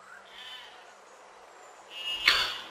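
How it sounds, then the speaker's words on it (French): A sheep in the video game Besiege lets out a single short, bright bleat near the end, rising above a low, steady game ambience. "Le mouton qui essaie de m'attaquer."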